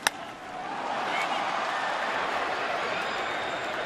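A baseball crowd at Fenway Park during a Yankees–Red Sox game roars in a broad, sustained swell after a sharp crack at the very start, loud and continuous throughout.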